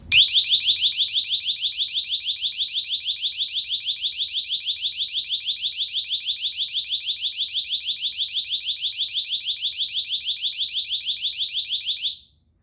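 Nextorch ND-30 distraction device sounding its mode 4 alarm: a loud, piercing high-pitched warble pulsing rapidly and steadily for about twelve seconds without a break, then cutting off abruptly.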